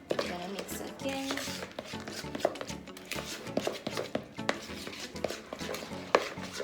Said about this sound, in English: We're gonna mix again.